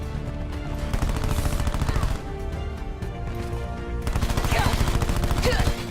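Dense, loud gunfire from the Black Ops 4 video game: rapid automatic bursts roll on continuously with a brief shift in intensity midway, mixed with other layered game effects.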